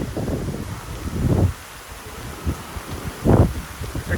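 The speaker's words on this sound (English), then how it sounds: "Here comes some wind." Hurricane Ian wind at Walt Disney World Resort gusting in uneven rumbling bursts against the microphone, with quieter lulls between the stronger gusts.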